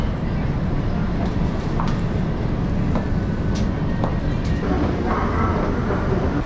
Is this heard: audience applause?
no